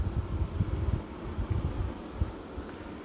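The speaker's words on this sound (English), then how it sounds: "you can hear the fan will come out quite strong" A steady, strong rush of air from a Mitsubishi air conditioner in fan-only mode, with a low, fluttering rumble, continuous and close throughout.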